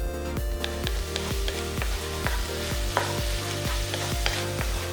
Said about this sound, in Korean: 지글지글 소리가 나면 달달 볶아주고